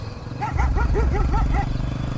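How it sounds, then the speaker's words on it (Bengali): A dog barks about five times in a fairly loud, evenly spaced run, each bark a rough yelp, over a low rumbling background. "একটা কুকুর হাউমাউ করে ডেকে উঠল।"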